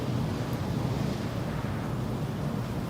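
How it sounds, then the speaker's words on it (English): Howling wind from a sandstorm in the video game Path of Exile 2 blows as a steady, dense roar, close and unbroken, with no voices over it. "I can't hear you over the wind. It's so noisy"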